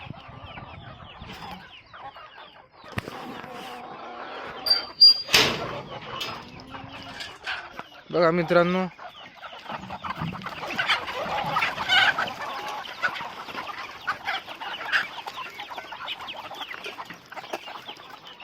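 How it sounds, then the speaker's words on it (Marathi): Hens cluck and bustle as they crowd toward a farm gate in the early morning, with rising overlapping calls and rustling, a loud squawking burst midway, and someone talking briefly. "बघा मित्रांनो मी गेट जवळ आलो त्या कशा धावत आल्या तिथे।"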